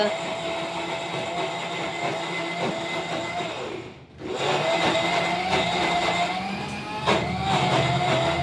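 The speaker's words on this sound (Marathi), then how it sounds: "इकडे मिक्सर चालू आहे" A kitchen mixer grinder motor whirs loudly and continuously, briefly dropping off before starting up again with a steady grinding hum.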